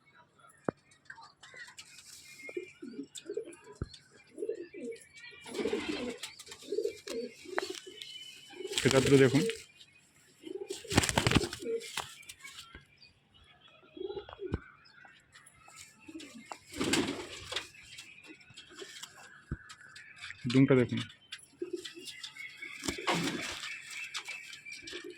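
Faint, intermittent coos from pigeons at a home loft drift under soft, whispery talk and occasional rustling, quiet and close.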